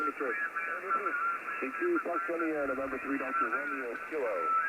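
A received ham radio signal: a distant amateur station's voice coming through a receiver with a narrow, band-limited tone, talking steadily over a light hiss.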